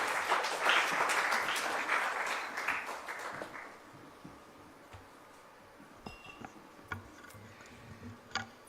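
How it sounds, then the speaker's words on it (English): Applause from an award ceremony audience starts strong and dense, then thins out and fades after a few seconds, leaving a quiet room with scattered claps and small clinks. "Ladies and gentlemen, a big round of applause for Suresh Prabhu."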